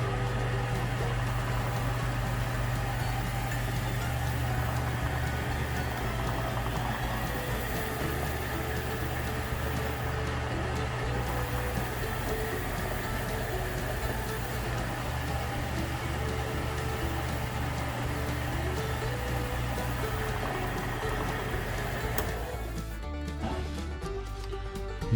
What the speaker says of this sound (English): I'm going to go ahead and turn on the lathe